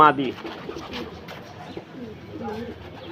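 Pigeons in a loft coo softly and repeatedly at close range, a low rounded murmur that continues throughout.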